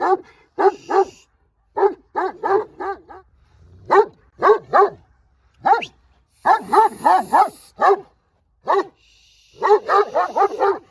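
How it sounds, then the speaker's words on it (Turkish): A female Rottweiler barks in loud, close bursts of two to four quick woofs separated by short pauses, repeating throughout. "güzel köpek vallahi"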